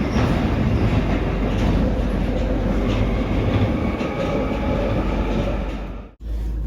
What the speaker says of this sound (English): we're going to hop on the tube